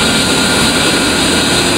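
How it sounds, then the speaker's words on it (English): Twin turbofan engines of an A-10C Warthog idle in Digital Combat Simulator, a loud, steady jet whine and roar that fills the short stretch without any voices. "Once you have both engines running normally at idle power"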